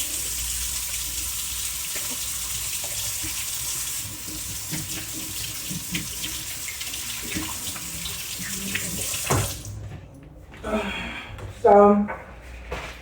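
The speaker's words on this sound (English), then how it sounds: "Wash my hands." A tap runs steadily for handwashing at a sink, a loud close gush that stops near the end and leaves someone talking briefly over quieter splashes.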